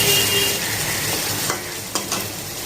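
Katla fish curry sizzling steadily in oil in a pan, gently stirred, with a few soft scrapes of the spoon standing out near the end, close and clear with no talking.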